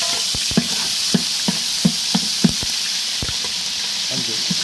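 Fennel seeds and curry leaves sizzle in very hot oil for a large batch of spicy chicken gravy, giving a steady broadband hiss broken by several sharp pops and taps, close and loud, with no talking.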